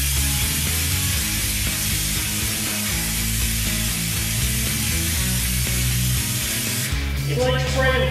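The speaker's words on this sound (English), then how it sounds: "It's like spraying bed oil." Spray gun applying LizardSkin sound control coating, a loud, continuous hissing spray that runs almost unbroken for about seven seconds before cutting off, with a brief voice heard near the end.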